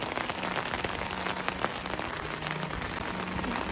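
Steady rain falls in Shillong, Meghalaya, near a person holding a traditional knup umbrella, a dense continuous patter of drops on surfaces at constant loudness, with no talking.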